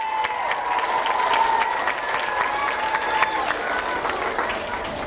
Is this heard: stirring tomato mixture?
no